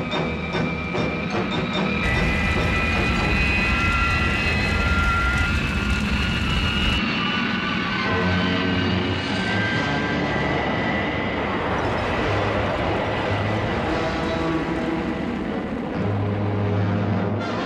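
Thunderbird 2's engines whine and roar in a dive as a television sound effect, a loud continuous jet-like drone with shifting pitch and tonal layers, no speech over it.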